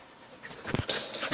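A dog pants briefly and gives a soft whimper, close by and fairly quiet, in a short burst with no talking.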